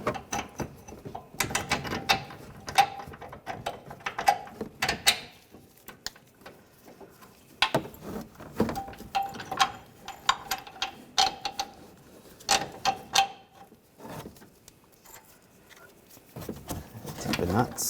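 Bolts being started on a Ram 1500 upper control arm give off repeated light metallic clicks and ratcheting bursts in short clusters, close by, with pauses and rustling between them and a voice speaking.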